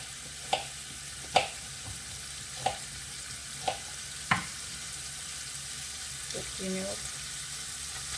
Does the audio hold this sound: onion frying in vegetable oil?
yes